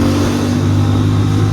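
An N250 motorcycle engine revs while riding, a loud, steady, close-up drone with a low rumbling throb throughout.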